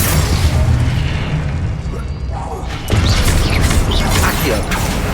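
A Confringo spell blast in Hogwarts Legacy erupts as a heavy fiery boom with crackling debris, fading, then a second rumbling burst and scattered pops follow in the game's combat.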